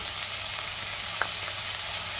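Onion, ginger-garlic-green chili paste and tomato sauté in a pan for a Marathi dried prawn dish, giving a steady close sizzle with a faint stir or scrape partway through and no talking.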